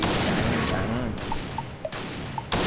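Rapid bursts of toy gun fire during a shooting challenge between friends, loud and close, with a few sharp pops standing out over a busy noisy background.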